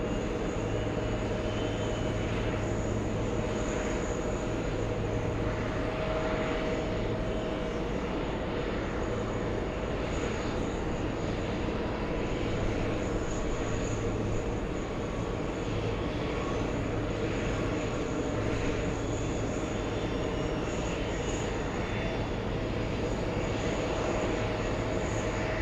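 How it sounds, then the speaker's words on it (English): Airbus A330 airliners arriving at a busy airport, a continuous loud jet engine roar with a steady low rumble that holds for the whole stretch. "There you go, a couple of A330s. One from Amsterdam and the other one from Barcelona."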